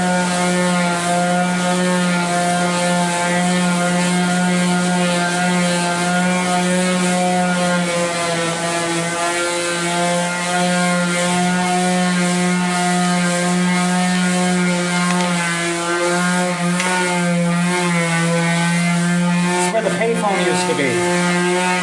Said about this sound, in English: As Rachel Shue had said to me on Facebook, a professional would never use an electric sander.